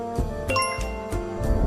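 A short bright bell ding rings out clearly, with tinkling overtones, heard alone over a soft low background.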